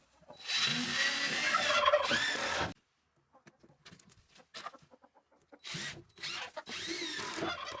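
A power drill drives screws into a wooden chicken nesting box. Two loud, close bursts of whirring drilling are separated by a quieter stretch of scattered knocks and faint clucks.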